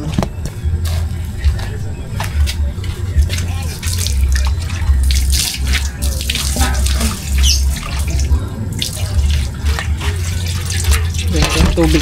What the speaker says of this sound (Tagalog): Ganyan yung tubig kasi